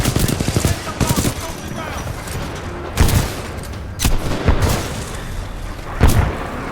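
Several sharp booms of a grenade and gunfire in Titanfall 2, spaced bursts about a second apart, loud and close over a constant background of combat noise.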